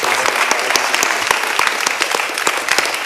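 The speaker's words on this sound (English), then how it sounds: "Can we stand up on our feet and give a big round of applause to our guests?" Church audience gives a round of applause for guests, a loud, dense burst of clapping with sharp individual claps standing out, sustained evenly for the whole stretch.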